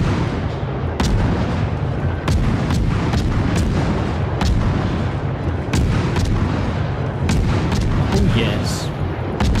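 Heavy naval guns aboard the warship Kidd fire a rapid run of sharp, loud booming reports at uneven intervals over a constant rumbling roar, with a brief spoken exclamation among them.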